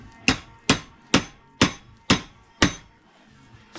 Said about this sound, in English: Nice copper hammer, already on the bench, ready to go.